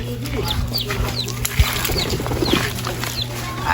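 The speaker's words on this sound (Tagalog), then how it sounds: "May naririnig na tayo mga kalapatids." Pigeons and chickens on a house rooftop, with wings flapping in short bursts among clucks and chirps, fairly close, while someone talks over it.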